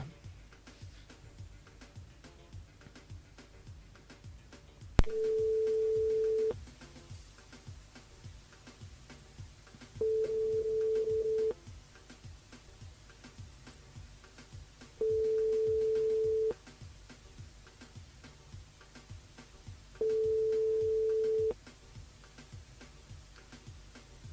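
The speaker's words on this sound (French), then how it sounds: "on rappelle Freddy ce soir sur le standard" Telephone busy signal heard while calling back a caller during a live radio show: four steady, evenly spaced tones, each about a second and a half long, separated by silence and sounding alone without talk.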